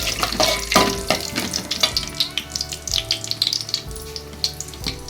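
Broken cashews hit hot oil for a vada curry, giving a loud, busy sizzle with crackling bursts and a few metallic stirring clanks throughout, close by and without talk.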